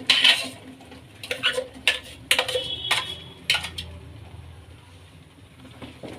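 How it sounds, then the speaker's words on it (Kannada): A utensil knocks against a non-stick pan as mango puree is added, giving a series of sharp metallic clinks and taps in irregular bursts. The clinks fade into quiet stirring toward the end. "ಈಗ ಮಾವಿನ ಹಣ್ಣು ಪ್ಯೂರಿನ ಹಾಕ್ಕೊಳ್ಳೋಣ."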